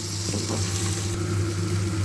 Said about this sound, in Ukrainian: Ось так смажиться цибуля, додаємо паприку.